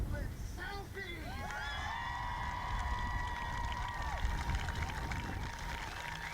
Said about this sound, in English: And the biggest cheer of the day,